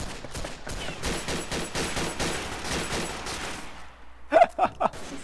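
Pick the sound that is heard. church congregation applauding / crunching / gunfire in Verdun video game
gunfire in Verdun video game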